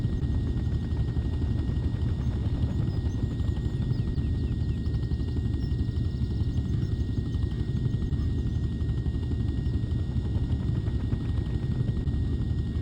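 Helicopter lifting a heavy load gives a loud, steady rotor thrum with rapid chopping pulses and a high engine whine, continuous and close throughout.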